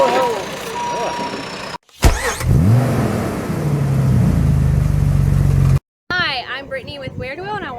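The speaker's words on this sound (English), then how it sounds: "Jeff, have her give it a little gas." Jeep JK on 40-inch tires at an off-road park, its engine revving and straining while climbing an obstacle, loud and close, with people talking over the engine noise.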